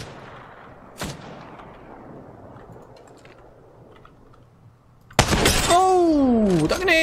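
Gunfire in a video game: a single sharp shot rings out and decays, then after a quiet stretch a loud burst of heavy firing erupts and continues, with whooshing, sweeping tones layered over it.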